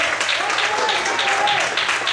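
A church congregation claps along through a Sunday morning worship service, a dense steady patter of many hands with voices murmuring and a faint sung or spoken tone woven underneath.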